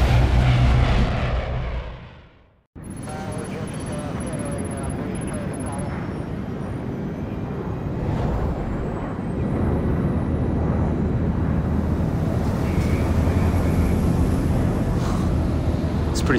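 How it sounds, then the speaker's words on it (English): Steady, full-bodied airplane engine drone inside an aircraft in Splinter Cell Blacklist, a continuous roar that fills the scene after a brief cut, with voices talking over it. "First time in a plane?"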